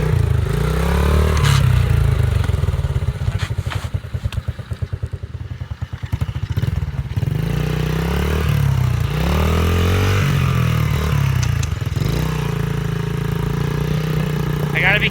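A Baja Motorsports dirt bike that sat unused for years, close by, its small engine idling unevenly, with a couple of revs that rise and fall and a dip where it nearly stalls, and someone talking over it at times.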